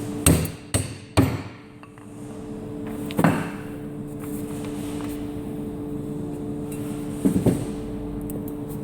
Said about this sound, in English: Using a dowel, drive the old seal out.